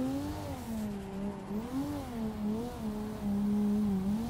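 A V8 car engine in a racing simulator game, drifting: a steady, loud engine drone that rises and falls in pitch with throttle changes, swelling louder near the end, with no talking.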